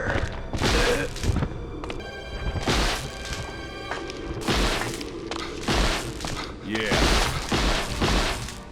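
A unique weapon strikes zombies in Resident Evil Outbreak File 2, giving loud crashing impacts and booming shatter bursts in a repeated rhythm, mixed with an electric buzzing hum and a voice talking over it.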